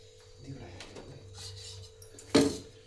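A cooking pot is set on the stove to fry fish for a fish curry meal. Faint kitchen clatter and a voice in the background lead up to one sharp, loud metallic clank near the end.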